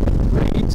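Gusty wind near a lagoon buffets the microphone in a loud, low, rumbling roar that fills the whole brief moment.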